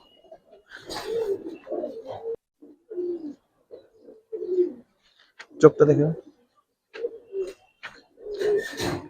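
Giribaz aluminium silver pigeons coo in a loft, soft repeated coos in short bursts close by, with someone talking between and over them.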